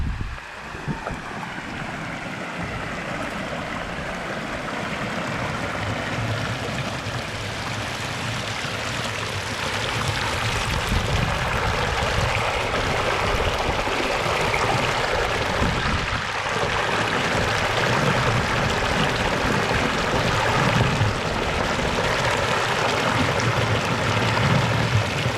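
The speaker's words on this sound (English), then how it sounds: "This is spring water." Spring water pouring and flowing into a pool, a steady broadband rushing wash, fairly close and continuous, with some wind noise on the microphone and no voices.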